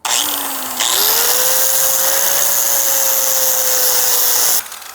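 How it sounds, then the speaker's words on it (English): An angle grinder whines steadily, close and loud, as its disc bites into metal to cut a part off. The pitch dips slightly at first, then holds for about four seconds before the tool cuts out. "I'm gonna cut this off. So let me go get the grinder for this first"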